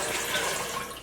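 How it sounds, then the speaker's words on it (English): Tap water pours steadily and loudly into a cooking pot being filled for pozole, a dense, continuous rushing splash. "First, I'm gonna fill my pot with water"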